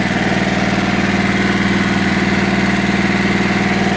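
An electric generator runs to power a water borehole pump during a night power cut, a loud, close, steady rumbling drone with a fast regular throb and no talking.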